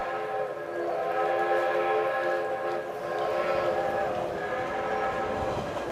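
A train departs in an audio drama sound effect, its steady rumble and wheel noise accompanied by sustained horn-like whistle tones, moderately loud and continuous without speech.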